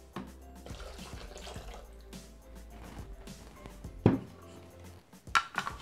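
Water poured into a Thermomix (Bimby) jug while making pasta with fish sauce, a close, fairly quiet splashing and trickling with a few sharper drips and clinks near the end.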